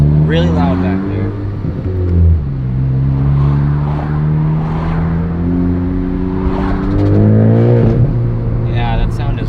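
Ford Focus ST with a Tomei exhaust blipping and revving from inside the cabin, a deep droning engine note rising and falling, loud and close, with people talking over it throughout.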